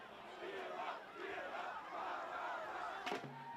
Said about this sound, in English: Good energy from this Milford crowd looking to cheer on the defense.